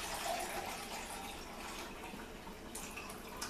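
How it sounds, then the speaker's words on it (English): Water poured from a container into blender jars for a green smoothie, a steady gushing, splashing stream close by and fairly quiet, with no talking. "I'm going to add exactly 2 cups of water into each container"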